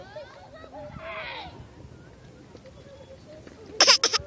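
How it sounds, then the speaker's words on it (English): A young girl gives short fake coughs and throat-clearing noises outdoors in a park, including a breathy rasp early on and a loud burst of sharp coughs near the end, close to the microphone. "And she does these fake coughs."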